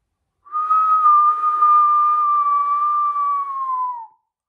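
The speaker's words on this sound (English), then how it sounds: "I'm just gonna whistle, then I'm gonna open my mouth." One loud, steady, pure-toned whistle made with the mouth alone, no fingers, holds a single pitch for about three and a half seconds and dips slightly at the end, close and clear against silence.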